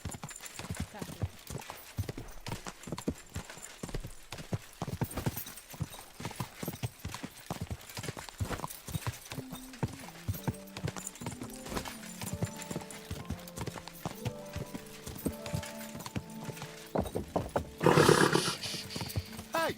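Horse hooves clip-clopping in Kingdom Come: Deliverance II: steady rapid hoofbeats run the whole way through at a moderate distance. A brief snort or whinny-like burst comes near the end, with game music and ambient noise underneath.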